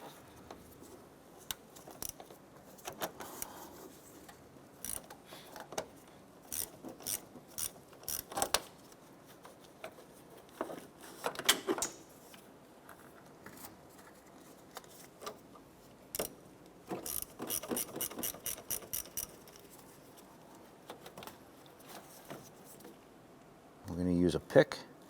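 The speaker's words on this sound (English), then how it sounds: "10mm socket and ratchet, we're going to go ahead and loosen and remove our battery terminals" A 10mm socket on a ratchet loosens the battery terminals of a 2006-2013 Chevrolet Impala, giving quick bursts of light clicking ratchet strokes in short runs, close and fairly quiet, with a mechanic talking throughout.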